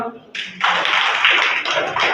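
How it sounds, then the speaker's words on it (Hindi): Schoolchildren in a classroom clapping together, a dense burst of many hands that starts abruptly and continues steadily and close, with voices faintly mixed in. "चलो इनके लिए ताली बजाइएगा।"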